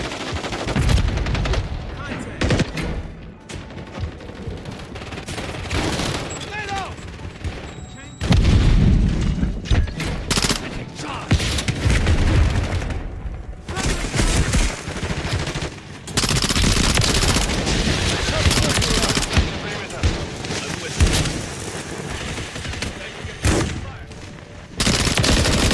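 Rapid Call of Duty gunfire fills the scene: dense automatic bursts and single shots crack loudly and almost without pause, with deep booms mixed in and game noise underneath.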